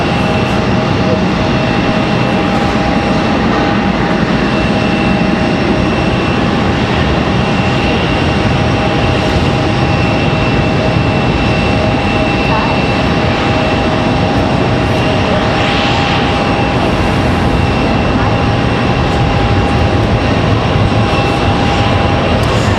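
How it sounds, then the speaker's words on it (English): American Airlines Boeing 737 departing the runway at Raleigh-Durham International, a loud, steady engine roar that fills the whole stretch without letup. "Got that American 737 out on the runway, ready for departure."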